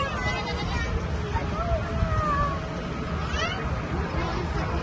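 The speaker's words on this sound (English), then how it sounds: "We're coming up to some goats now." Goats bleat at a farm park, several short wavering calls over a busy outdoor background of crowd murmur and distant voices.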